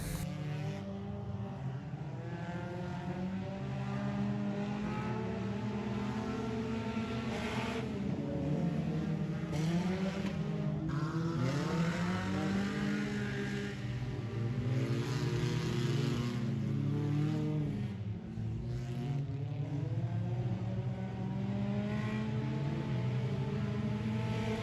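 A front-wheel-drive race car at race night on a dirt track, its engine droning continuously at a distance and rising and falling in pitch through the laps, with no voices.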